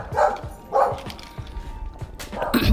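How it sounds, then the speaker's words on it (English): Dogs bark in a few sharp, scattered bursts at moderate distance inside a home, with other noise around them. "The dogs are upset, you guys."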